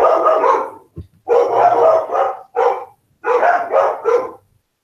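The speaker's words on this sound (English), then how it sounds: "What is he barking at?" A dog barks loudly in several bursts, close by, with short pauses between them and no talking.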